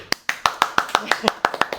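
About a dozen quick, sharp claps in a steady rhythm, close and fairly loud, with no talking over them.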